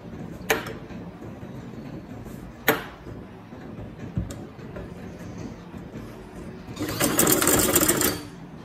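A sewing machine stitching a ladies' cigarette pant, with a few short clicks and knocks followed by a brief steady whirring run near the end, heard up close.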